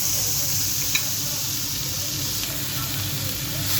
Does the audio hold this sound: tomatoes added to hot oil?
yes